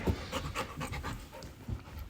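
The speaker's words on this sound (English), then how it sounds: "Oh, look, I got my own dog." A dog pants close by in quick, rhythmic, breathy puffs, steady and moderately loud throughout.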